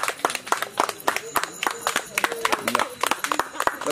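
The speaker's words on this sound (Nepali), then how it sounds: "ताली" Wedding guests at a small ceremony clap in quick, uneven bursts close by, the sharp claps mixing with voices talking over them throughout.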